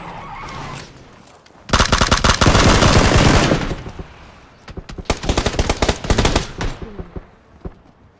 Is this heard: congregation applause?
no